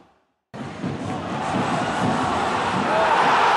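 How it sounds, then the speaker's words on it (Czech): A packed home crowd at an ice hockey stadium erupts suddenly into loud, sustained cheering and roaring that builds and holds steady. "Zaplněný domácí stadion se radoval."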